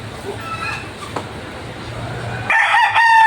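A rooster crows loudly near the end, with harmonic calls after a stretch of quieter barnyard noise and low hum.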